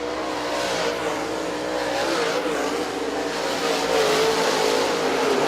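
Late model stock cars racing in a heat at a speedway roar continuously, engines droning and surging together as the pack circles, loud and dense with no talk over it.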